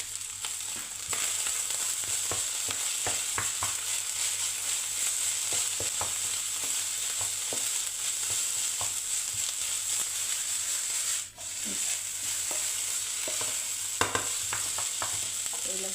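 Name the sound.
garlic powder frying and being stirred in a pan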